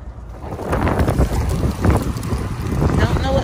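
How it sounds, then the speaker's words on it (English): Strong wind blowing outdoors in a store parking lot, gusting roar and buffeting on the microphone throughout, loud and close. "Ooh, it's so windy out here."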